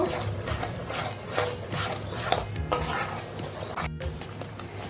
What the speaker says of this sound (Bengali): আমি দইটাকে দুই থেকে তিন মিনিট কষিয়ে নেব